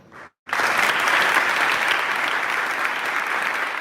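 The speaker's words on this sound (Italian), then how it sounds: "È un applauso dal cuore quello che accoglie nel Salone della Curia Vescovile di Padova l'annuncio del vescovo della città Claudio Cipolla" Dense, sustained applause fills the hall of the bishop's curia in Padua as a gathering greets the announcement of a new bishop, starting abruptly after a brief pause and holding steady and loud throughout.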